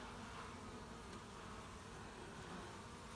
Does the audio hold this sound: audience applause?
no